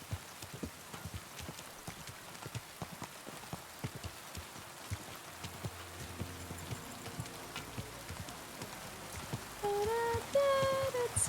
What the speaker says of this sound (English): Such a rainy day.